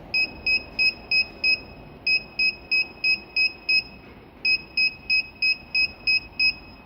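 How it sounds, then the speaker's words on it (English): Groups of short electronic beeps from a car immobiliser transmitter, a tinny two-tone chirp repeated in regular bursts with brief pauses between sets, clear and close. "That's level 3, it beeps 3 times."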